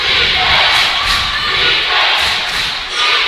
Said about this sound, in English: Fayetteville brought their crowd tonight.